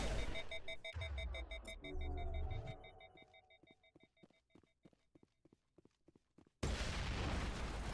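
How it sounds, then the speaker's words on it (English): Fuel tank blown up in the video game Mass Effect, with booming blasts and crackling gunfire-like bursts in the first seconds, then a run of sharp repeated impacts and a loud rumbling burst near the end. "I blow up fuel tank."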